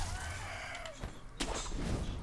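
Chicken clucking in the video game Sekiro, a few short bursts of squawks over a steady game background, with a sharper louder outburst near the end.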